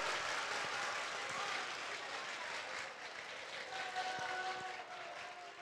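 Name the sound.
applause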